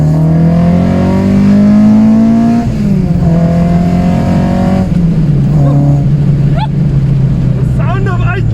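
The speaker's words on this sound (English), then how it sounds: "Sound of ITBs!" A fire-truck red car fed by individual throttle bodies revs loudly and close. The engine note holds high, then steps down in stages over several seconds, with brief chirping sounds near the end.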